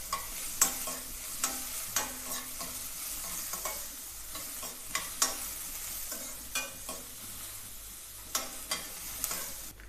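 Onion frying with garlic cloves and green chili in a pan: a soft continuous sizzle broken by repeated sharp spatula clicks and scrapes at an uneven rhythm, close and fairly quiet, with no voices.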